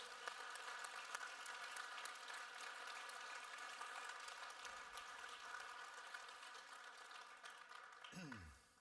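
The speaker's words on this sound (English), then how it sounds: "I think we can give them another round of applause." An audience at the IFRC General Assembly and Red Cross Red Crescent Council opening applauds steadily, a dense wash of clapping that carries on throughout, heard at a distance and fairly faint.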